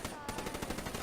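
HVK-30 assault rifle from Black Ops 3 firing in fully automatic, a rapid, steady stream of shots at moderate volume.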